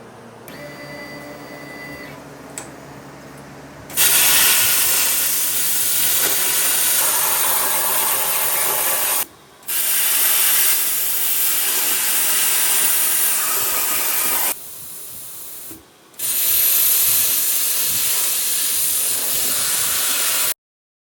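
A plasma cutter slices through metal for truck camper mounting brackets, a loud steady roaring hiss running in long bursts with brief pauses between cuts, after a quieter electrical hum at the start.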